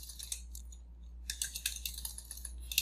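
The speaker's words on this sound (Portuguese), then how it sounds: "Vou lá no ChatGPT e vou digitar aqui" Typing on a computer keyboard into ChatGPT: close, crisp key clicks in quick irregular bursts, with a short pause near the middle and a low steady hum underneath.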